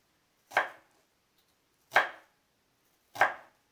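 A knife slicing onion finely into thin feather-cut strips on a board, three separate crisp chopping strokes spaced about a second apart, close and clear with silence between.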